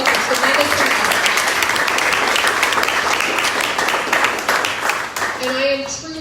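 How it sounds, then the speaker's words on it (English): Crowd applause at an outdoor political rally, dense continuous clapping for about six seconds, loud and close, fading slightly at the end as a few voices and a brief tone come through. "I would like for everyone in the audience to please just give a round of applause to all of the candidates"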